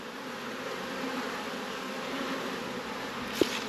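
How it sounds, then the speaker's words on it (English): Honey bees buzz around a hive at a homestead in spring, a continuous close drone with a few short, louder knocks near the end. "So the bees are out, they're looking pretty good."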